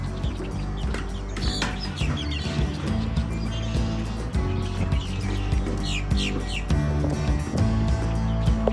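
Loud birds call repeatedly over a dense, steady background din, their sharp chirps and squawks cutting through again and again.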